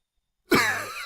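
An elderly man coughs in one brief, harsh, close burst after a moment of silence, followed by a short throat-clearing catch.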